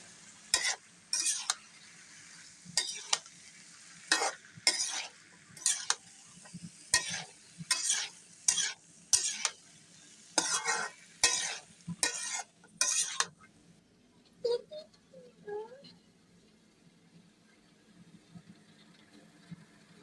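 Cauliflower and new potatoes are stirred with spices in a pan: a run of about fifteen evenly spaced, scraping stirs with a soft sizzle between them, then the stirring stops and a quiet hiss remains.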